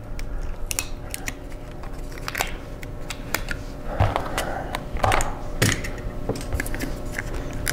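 Scissors trimming tape off a part during an Acer Nitro 5 AN515-53 laptop keyboard and palm rest replacement, a close series of irregular sharp snips and plastic clicks.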